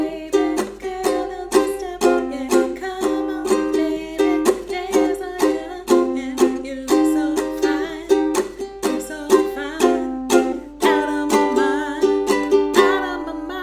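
A ukulele strums a rhythmic chord riff from a song, with steady, evenly spaced strums that ring clearly and up close across the whole passage, alone and with no talking.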